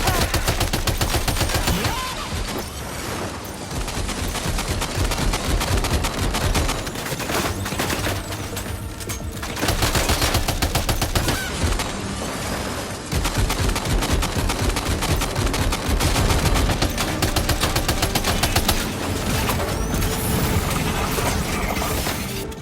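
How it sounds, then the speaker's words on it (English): Loud, sustained gunfire from the video game Death Stranding 2 rattles almost continuously in rapid, dense machine-gun volleys, with only brief dips in intensity and no talk. "Open fire."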